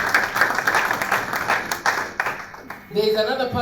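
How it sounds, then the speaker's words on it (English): An audience at a church event claps and applauds steadily throughout, a dense patter of hands with a voice speaking over it near the end. "So let's clap for Kennedy as he comes."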